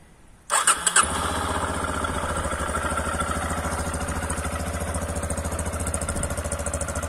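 A Yamaha Lander motorcycle with 110,000 km on it cranks briefly, catches and settles into a steady, close, loud idle with an even pulsing rhythm.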